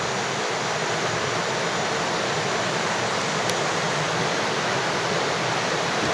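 A clean river runs steadily in a continuous broadband rush that stays even and moderately loud throughout, with no voices.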